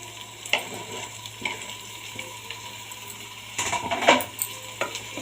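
Thin-sliced bitter gourd pieces fry with onions in a pan, making a close, steady sizzle broken by intermittent spatula scrapes and clinks, louder bursts of stirring near the end, and no voices.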